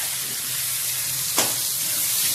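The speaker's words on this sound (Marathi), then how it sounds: "कांदा पण छान परतून घ्यायचा" Onion sautéing with curry leaves in a pan for corn chivda, a steady close-up sizzle and hiss with a brief stirring scrape midway.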